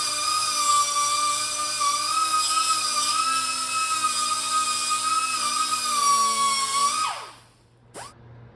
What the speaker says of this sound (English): we're gonna get this piece trimmed down to fit into this hole